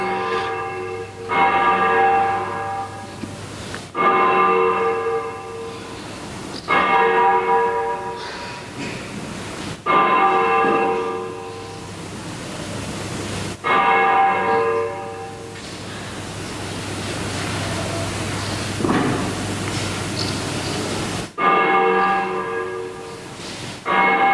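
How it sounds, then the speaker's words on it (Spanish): Church bells swung by bell ringers in a 1980 recording ring out loud and close in repeated bursts, each a clangorous peal of overlapping strikes, separated by short gaps of decaying hum. "le grabamos técnicas, es decir, voltear una campana, voltear dos"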